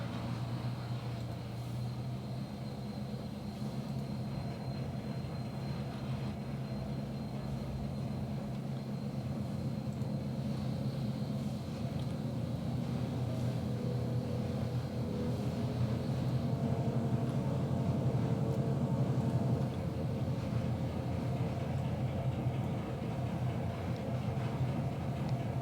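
A heavy train on a Wallace Branch layout is moved backwards, a steady low rumble with a droning tonal hum that holds a constant level throughout, with no speech.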